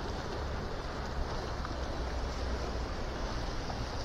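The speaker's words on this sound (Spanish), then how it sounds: "Vean, ese oleaje todavía está alto." Steady roar of ocean surf, a continuous broadband wash of breaking waves with no voices.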